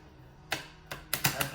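A small deck of Secret Language of Light oracle cards is shuffled by hand, giving a few sharp, close slaps and riffling clicks in an irregular burst after a quiet moment.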